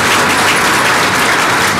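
Audience applause at a building inauguration ceremony, a dense, steady patter of many hands clapping at close range throughout, loud and continuous with no talk over it.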